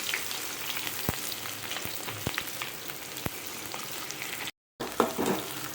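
Onions hit hot oil with fennel and cumin for a Chettinad mutton gravy, giving a steady, close, crackling sizzle with a few sharp clicks and a brief cut near the end.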